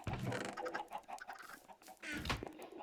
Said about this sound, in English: These are the chickens. This is an automated chicken farm.